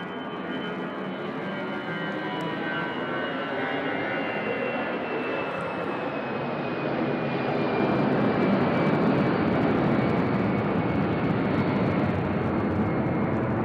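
Airplane at Nashville International Airport, bound for Charlotte, North Carolina: a steady, loud broadband engine roar that swells slightly toward the end, with no talking over it.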